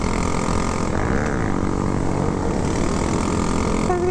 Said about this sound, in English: Oh, here comes the wheelies.